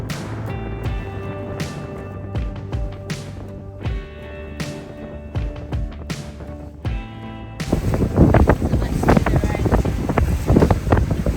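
Wind blows across a sailboat in steady, roaring gusts, loud and close on the microphone and building to heavy buffeting near the end.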